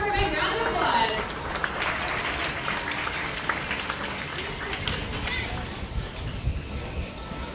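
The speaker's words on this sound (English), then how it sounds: "so let's everyone give her a big round of applause" Audience applause for Kelsey after a dolphin demonstration at a marine facility, a dense, steady wash of many hands clapping for several seconds, with crowd murmur and voices mixed underneath.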